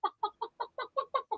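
A chicken clucks in a quick, steady run of about eight evenly spaced calls, close and clear with no talking.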